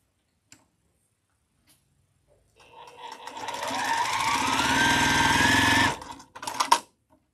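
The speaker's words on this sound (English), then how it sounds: "And let's sew these together." A sewing machine stitches quilt triangles together in a steady run of about three seconds after a few quiet clicks, then stops, followed by a brief handling rattle, close and clear with no talk.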